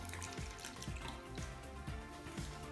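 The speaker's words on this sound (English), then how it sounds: "Now Corban's gonna pour the water into the cup." Water is poured into a cup holding polymer powder as a quiet trickling splash with small repeated gurgles, faint and close, with no voices over it.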